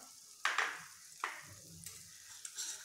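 Spices frying in oil in a pan for kaju (cashew) curry, with bursts of sizzling and stirring scrapes that flare and fade in a loose rhythm, close and moderately quiet.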